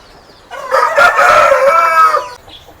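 A rooster about 16 to 17 months old and weighing around 5 kg crows once, loud and close, in a long wavering call of nearly two seconds, with a brief cluck trailing after it.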